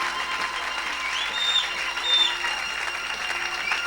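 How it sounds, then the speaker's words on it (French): A church congregation bursts into sustained applause in praise of the Lord, a steady wash of many hands clapping at medium distance, with cheers and a few shouted voices rising over it. "une grande acclamation à notre Seigneur"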